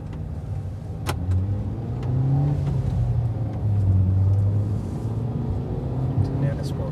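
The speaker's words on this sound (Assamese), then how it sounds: "ফাইনেলি আমি এতিয়া ৰোড টেষ্ট লৈ আছোঁ গাড়ীখনৰ" A petrol Hyundai i20 on a road test after a major service, its engine a steady low rumble that swells as it pulls, with road noise throughout.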